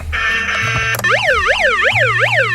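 A loud electronic siren from a 1994 Hess toy rescue truck, first a steady tone, then a rapid rising-and-falling wail repeating several times up close.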